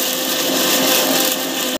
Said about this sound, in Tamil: இது வந்து க்ளோஸ் பண்ணிட்டு மிக்சியில் போட்டு அரைச்சிக்கலாம்.